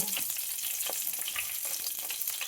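Urad dal crackling in hot oil, a dense continuous sizzle with small pops, close and steady with no voices.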